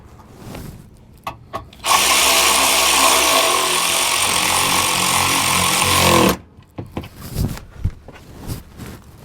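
A power tool drives screws into the plastic bumper of a Toyota RAV4 Hybrid, one loud sustained whirring burst of about four seconds, with softer clicks and handling noises before and after.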